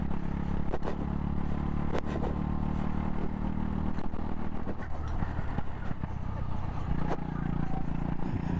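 A go kart engine drones steadily during a race, close and fairly loud, easing in pitch and load as the driver lifts off the throttle, with a voice talking over it.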